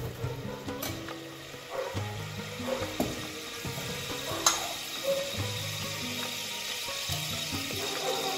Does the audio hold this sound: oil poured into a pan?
yes